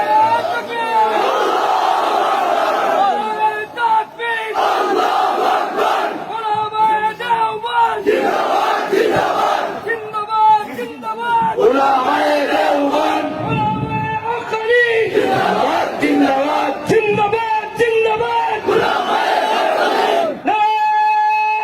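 A large crowd at an Islamic sermon gathering (waz) chants Allahu Akbar in loud, sustained, echoing unison, with repeated surging shouts over a continuous roar of massed voices.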